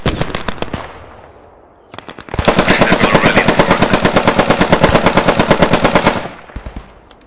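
An M3 grease gun submachine gun fires in the Post Scriptum game, first a short stuttering burst, then a long, loud, evenly rattling stream of automatic fire lasting about four seconds before it stops.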